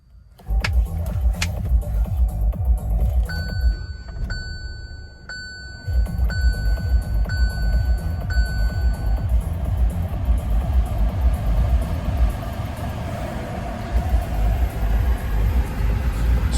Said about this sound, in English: And just switch on the car.